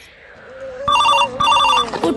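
A telephone rings loudly close by in two bright trilling bursts, with a faint voice in the background just before the ring starts.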